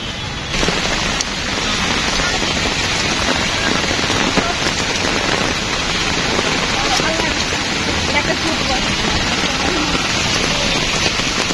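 Heavy storm rain pours down steadily at Hatirjheel during a cyclone, a dense continuous roar of falling water lasting throughout with no break.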